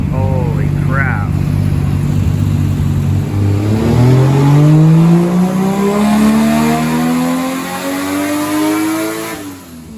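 A turbocharged 1JZ engine in a Toyota Supra Mk3 revs hard on a dyno, its loud droning pitch climbing steadily through a full pull and easing off at the end, close and continuous, with talk faintly mixed in.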